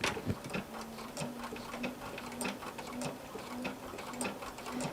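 Sewing machine running a small zigzag stretch stitch with a size 11 needle, a steady rapid mechanical ticking and whirring in short repeated runs, close and fairly loud.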